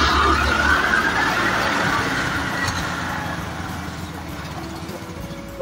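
A Green Tiger Mobility electric-petrol hybrid scooter running on its petrol engine: a close, steady motor drone with a rising whine early on that slowly settles, and no speech.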